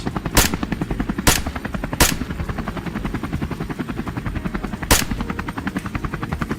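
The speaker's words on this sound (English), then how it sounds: "Gunfire thundered across the field, bullets tearing through the soil." Rifle gunfire rings out across an open farm field during a wild boar hunt, with a few loud sharp shots spaced irregularly over a fast steady mechanical chopping drone, no talk.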